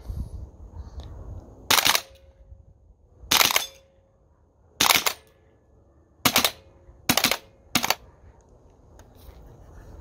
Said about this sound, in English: Let's try to shoot through the camera here.